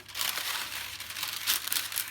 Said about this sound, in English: So just put your baking paper over the tray